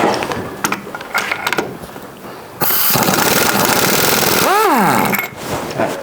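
A socket wrench turning bolts on a Suzuki Burgman 650 scooter in a workshop, with loud, close metallic ratcheting and clattering and a sustained grinding stretch midway, under no speech.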